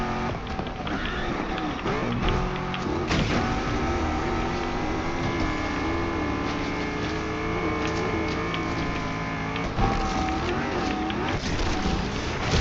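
A Mercedes-Benz C63 AMG boosts in the racing game NFS Unbound, a loud sustained engine drone with rising harmonic whine and a sharp surge of revving partway through, continuous and close.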